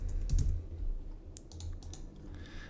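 Keys on a computer keyboard are tapped in short bursts while a profile name is entered, faint clicks spread across a few seconds over low background hum.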